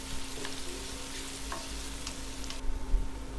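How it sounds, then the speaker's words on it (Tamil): Onions sautéing in a pan for egg curry gravy, a steady soft sizzle with faint scraping stir strokes, close and moderately quiet throughout. "இந்த 2 வெங்காயம் வந்து 1 வெங்காயமாக நல்லா குறையிற வரைக்கும் இதை நல்லா வதக்கணும்."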